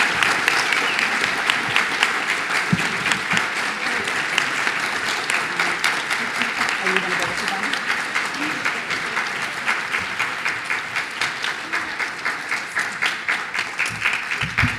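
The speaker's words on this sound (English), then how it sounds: "keep giving them applause while they come up" Sustained, dense applause from a large audience fills an awards ceremony for the 2025 Iowa Cancer Summit, steady and loud with no talk over it.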